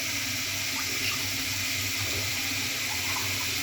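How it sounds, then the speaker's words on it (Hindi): Water pours steadily into a pan of chicken biryani being cooked, a continuous rushing splash with no pauses. "थोड़ा पानी डाल रही हूँ।"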